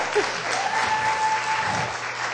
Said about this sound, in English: The clapping's waking me up.